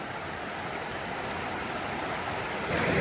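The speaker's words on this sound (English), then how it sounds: "Just a couple hundred yards north of the Death Canyon Trailhead is a very nice creek." Creek near the Death Canyon Trailhead in Grand Teton country, a steady broadband rush of flowing water, close and fairly loud throughout, growing slightly louder at the end, with no voices.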